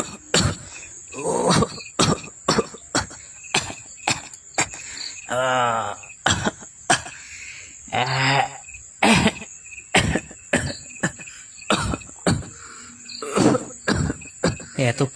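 A man coughs over and over in a horror audio story, with short harsh hacks, a few drawn-out groaning wheezes and throat clearing, loud and close, while crickets chirp steadily in the background.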